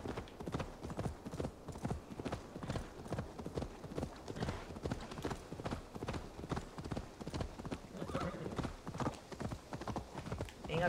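A horse gallops in Assassin's Creed Valhalla, its hooves drumming in a fast, steady clip-clop rhythm that runs the whole time at moderate volume, with no one speaking over it.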